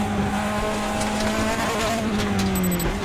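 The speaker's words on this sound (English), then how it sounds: "Just that tyre squeal." Racing cars in a racing video game squeal their tyres in a long, continuous high whine over steady engine drone, loud and sustained with no speech.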